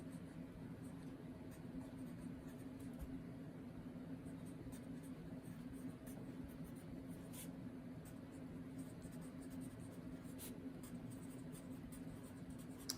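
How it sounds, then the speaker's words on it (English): Pen scratching out notes on paper during a statistics lecture, a steady, continuous close-up scraping that runs unbroken with a soft background hum. "Let me write that down."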